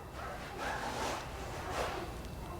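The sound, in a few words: newborn puppies whimpering and crying in the background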